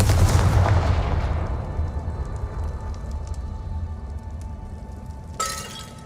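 A Confringo blasting spell from Hogwarts Legacy bursts loudly with a heavy explosive boom at the start, then a long crackling, rain-like decay with a fresh sharp burst near the end.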